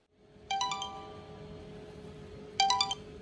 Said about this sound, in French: Cette sonnerie, c'est le signe qu'une commande vient d'arriver